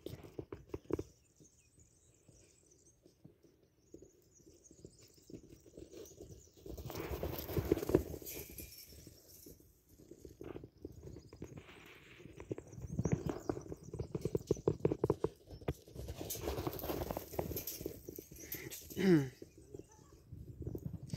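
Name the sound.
horse hooves galloping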